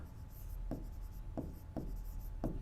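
Pen strokes scratch across paper while a maths problem is worked out, four short distinct scraping bursts at a steady pace, close and fairly quiet over a low background hum.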